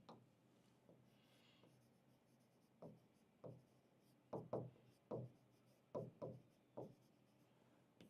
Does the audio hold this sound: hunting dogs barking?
no